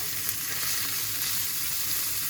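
Crispy anchovies frying in a pan, a close, steady, even hiss of sizzling oil with no break.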